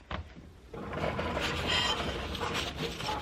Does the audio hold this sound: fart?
no